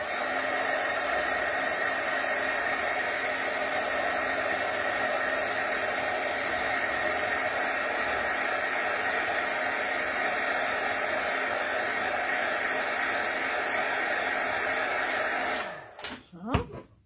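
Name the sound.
drying craft ink on paper with a heat tool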